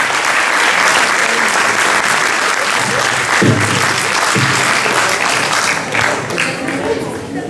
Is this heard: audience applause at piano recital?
yes